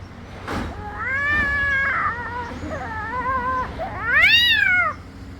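A man, a sweet-maker, imitates a cat with several drawn-out, wavering meows, ending in a louder rising-and-falling cry, alone over a low background hum.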